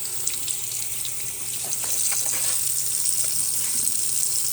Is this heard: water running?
yes